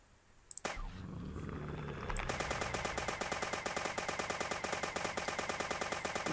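Rapid automatic gunfire from the video game Dead Bits, opening with a few isolated shots and then settling into a dense, steady stream of loud rattling bursts that continues to the end.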